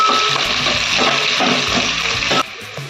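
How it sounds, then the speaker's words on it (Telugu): Curry leaves and onions frying in oil for a tomato egg curry, stirred with a ladle: a steady loud sizzle with rhythmic scraping strokes, then a sudden drop to a quieter hiss near the end. "అన్నీ వేసుకున్నాక ఒకసారి గంటతో ఇలా కలిగించుకోవాలి"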